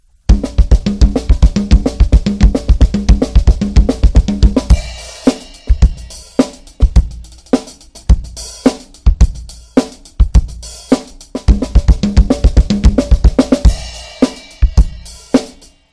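Busy drum chop rolling across toms and snare, with punchy kick drum hits added, briefly thinning to sparse hits midway before the dense pattern returns.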